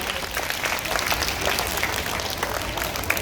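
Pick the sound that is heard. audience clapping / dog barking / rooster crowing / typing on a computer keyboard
audience clapping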